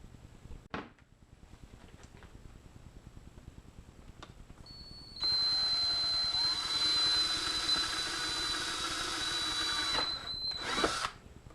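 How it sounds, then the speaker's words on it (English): A power drill boring a hole through the plastic center console of a 2001 Ford F250, a high whining buzz running steadily for about five seconds after a few quiet clicks, then stopping, followed by a short final burst. "So I'm going to drill my hole right there."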